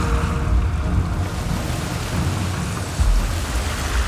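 Ocean waves surge and wash in a steady, full roar of surf with rain-like hiss, loud and close throughout, with a heavier swell breaking near the end.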